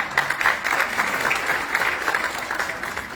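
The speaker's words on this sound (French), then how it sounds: "Et je vais appeler sous vos applaudissements Kautar Dabakouya, Jouadia Chibil, Nusayba" Audience applause at a celebration event for the 9th edition of Technovation Girls, steady dense clapping from a crowd filling the whole stretch with no break.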